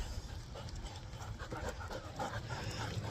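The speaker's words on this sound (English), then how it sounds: "So here's an off-leash dog." An off-leash dog meeting a cyclist on a walk pants quickly and breathily up close, with faint movement and outdoor noise around it.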